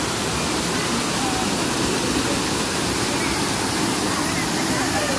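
A waterfall on a hillside trail, heard as a loud, continuous broadband roar of rushing water that fills the whole scene, steady and close throughout.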